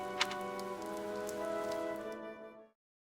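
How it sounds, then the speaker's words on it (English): Heavy rain in the video game Fire Emblem: Three Houses, a dense patter over a tonal musical drone that cuts off abruptly after about three seconds. "The rain is really coming down now."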